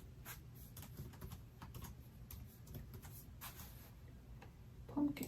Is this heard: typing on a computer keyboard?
yes